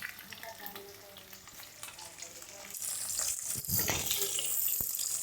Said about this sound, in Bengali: মাছ ভাজা ছেড়ে দিলাম।